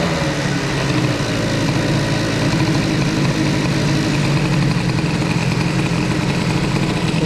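A scooter fitted with an Airsal XT 77 boosted kit idles loudly and steadily close by, its exhaust pot droning and rattling without a break; no one speaks.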